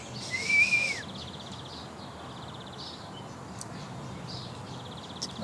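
A person whistles back at birds in imitation of their chirping, one short clear whistled note near the start, followed by faint repeated bird chirps in the distance over a steady background hiss.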